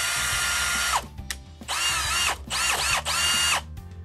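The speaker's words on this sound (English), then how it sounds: "it can only be used with a cordless drill" A cordless drill spinning a scrub brush attachment whirs in several high-pitched bursts, spinning up and winding down between runs, close and loud.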